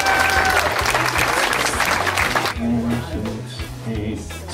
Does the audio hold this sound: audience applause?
yes